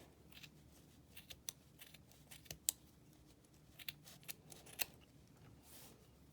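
Scissors snipping through the top of yarn pom pom loops, a series of soft, crisp cuts in an irregular rhythm, close but quiet, with no talking.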